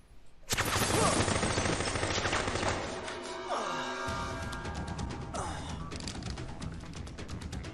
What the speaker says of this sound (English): I'm gonna use this here sniper rifle